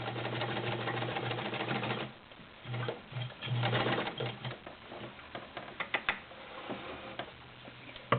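A vintage Kenmore Model 1301 heavy-duty sewing machine stitching through thick layered denim seams, a close mechanical whir with a steady hum and rhythmic clicking, slowing into separate ticks near the end.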